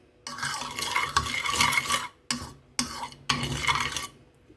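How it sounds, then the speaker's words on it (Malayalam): A mixture for a stovetop chicken pizza is stirred in a bowl or pan, in a few close bursts of scraping and swishing broken by short pauses. "ഇനി നല്ലപോലെ ഒന്ന് മിക്സ് ചെയ്തിട്ട് വെക്കാം."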